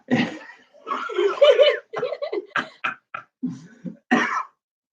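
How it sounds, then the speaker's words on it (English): A few short, harsh hay fever coughs break up a stretch of close-up talking, coming in quick bursts with brief pauses between them. "Hay fever cough"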